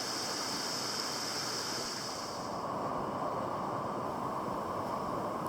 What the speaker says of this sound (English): It was at the side of these waterfalls that flowed down into a small stream at the bottom.